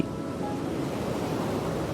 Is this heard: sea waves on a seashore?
yes